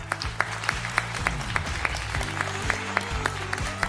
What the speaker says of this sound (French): on va profiter de vos applaudissements pour accueillir bien sûr notre Titi national, Thierry Beccaro.